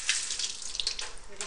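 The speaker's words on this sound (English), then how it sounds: "Okay, wash my hands." Hands being washed under a running kitchen tap, a steady broadband splash of water that stays fairly close and even through the short stretch, with small shifts as the hands move in the stream.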